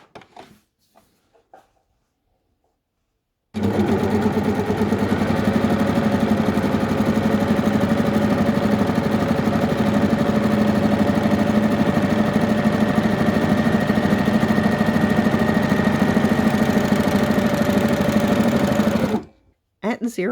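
A sewing machine runs continuously for about fifteen seconds, stitching stretchy fabric with differential feed set to 0.5, a steady close mechanical whir framed by short pauses at start and end.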